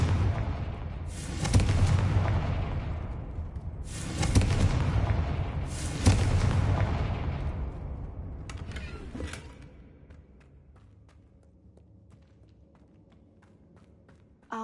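A Confringo spell in Hogwarts Legacy sets off three heavy explosive booms a few seconds apart, each with a long rumbling decay. Later come a scatter of smaller crackling pops and clicks that fade to quiet.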